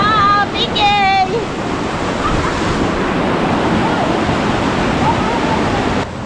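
Mother Falls waterfall in Baler, a broad steady roar of falling water under wind buffeting the microphone, with a few brief bird-like chirps at the start.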